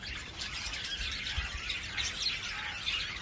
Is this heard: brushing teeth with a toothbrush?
no